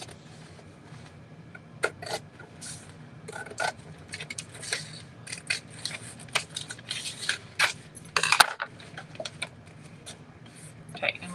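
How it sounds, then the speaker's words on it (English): Repeated crisp snips and rustles of scissors trimming paper for a papier-mâché tissue box cover, irregular and close, with a few sharper crackles near the end. "I'm just going to use some scissors"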